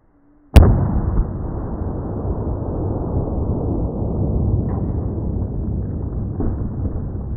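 A single sharp gunshot from a 9mm CCI number 12 shot shell fired at water jugs outdoors, a loud crack followed by a long rumbling echo that fades slowly.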